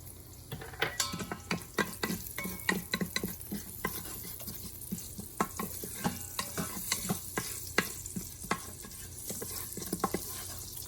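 Kitchari ingredients sautéing in an Instant Pot on the sauté setting: a steady sizzle and frying hiss under repeated scraping and stirring clicks of a utensil against the pot, close and continuous, with no talking.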